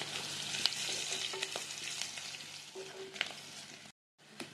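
Onions and green chilies frying with turmeric in a pan for a cabbage curry, a steady low sizzle with occasional scrapes and taps of stirring, quiet and close, briefly dropping out near the end.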